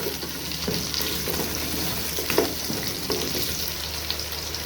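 Carrots and potatoes sauté in oil in a pot for lentil soup, giving a close, continuous frying hiss with occasional stirring knocks and scrapes.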